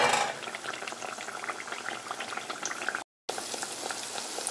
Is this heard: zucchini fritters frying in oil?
yes